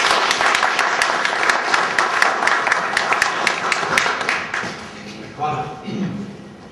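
An audience claps to welcome a speaker at a public talk, loud dense applause for several seconds that thins out, with a few voices near the end.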